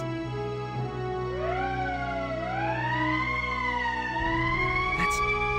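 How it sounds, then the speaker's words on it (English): A wailing electronic emergency siren in the video game Valkyria Chronicles Remastered rises and sweeps in pitch, steady and loud with a low hum underneath, then a brief sharp burst near the end. "That's the emergency siren."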